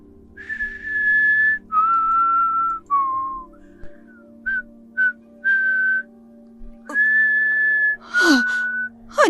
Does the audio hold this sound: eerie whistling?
yes